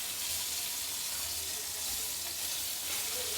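Fish frying in hot oil, with a steady, dense sizzle and crackle that stays loud and close throughout, with no voices.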